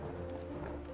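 Sleipnir, Odin's horse in a video game, gives a close, steady clip-clop of hooves with a neighing tone over a continuous droning game background.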